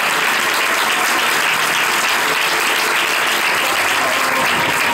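A church congregation claps during an evangelical sermon, a dense, steady wash of applause filling the whole stretch at full strength with no voices over it.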